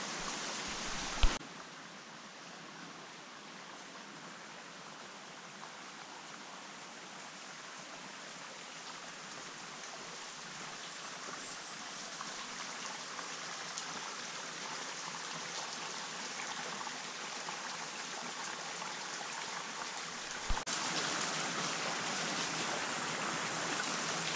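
Steady broadband roar of a waterfall in a misty forest on Madeira, continuous and moderately loud, with a brief louder burst at the start and end.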